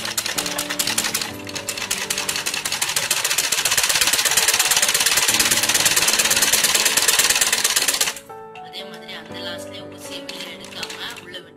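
An electric sewing machine stitching a fall onto a saree, a rapid even mechanical chatter that builds and runs steadily for several seconds, then stops, leaving someone talking over faint background music.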